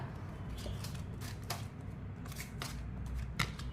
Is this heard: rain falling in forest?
no